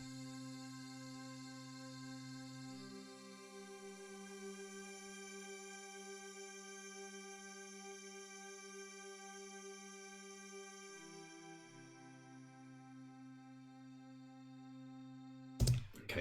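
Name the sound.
synth pad sample played in Ableton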